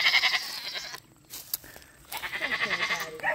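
Goats bleat loudly and close by in repeated wavering calls, with a brief quieter gap in the middle before the bleating resumes.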